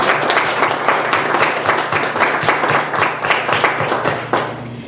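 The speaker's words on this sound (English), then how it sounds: "Please give them a big round of applause." Audience applause at a 2017 League of Women Voters forum on Whidbey, a dense, loud clapping crowd sustained for five seconds with sharp individual claps standing out near the end.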